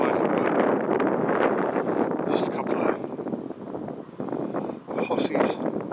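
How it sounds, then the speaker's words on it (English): Strong gusting wind buffets the microphone outdoors in the Norfolk countryside, a loud continuous rumbling roar with a faint higher rustle at moments. "As the wind gets up."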